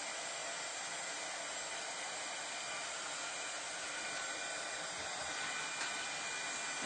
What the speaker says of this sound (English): we're going to dry it because we're going to put the transfer back down